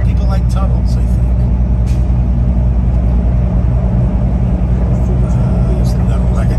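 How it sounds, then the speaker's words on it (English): A car drives through a road tunnel, a loud, constant low roar of engine and road noise echoing steadily throughout. "There's nothing like a drive through a tunnel, right, folks?"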